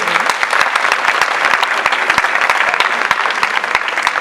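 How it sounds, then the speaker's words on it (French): Audience applause at a student-organised fashion show, loud and continuous, with many hands clapping close by and some sharp individual claps standing out, no talk over it. "Applaudissements pour Clémence s'il vous plaît."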